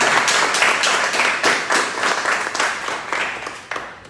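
A conference audience gives a warm round of applause to welcome a doctor to the lectern, with steady, dense hand clapping that pulses slightly and tapers off at the end.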